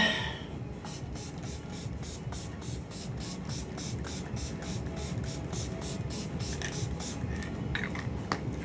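Makeup setting spray misted in rapid repeated pumps, a string of short soft hissing bursts in a quick even rhythm, close and fairly faint over quiet room background.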